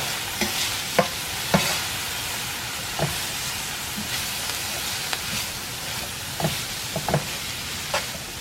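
Minced garlic sizzling with celery and onions in a pan, a continuous bright frying hiss punctuated by repeated spoon-stirring scrapes and clinks at irregular intervals, close and without talk.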